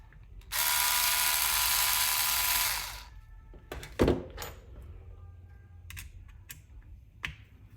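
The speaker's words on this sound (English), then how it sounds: "Now I'm just going to screw in the bottom one." A bottom screw is driven into an RC chassis brace on an Arrma Fireteam basher with a power driver, giving one loud steady whir of about two and a half seconds, then a few knocks and clicks.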